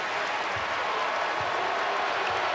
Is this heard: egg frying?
no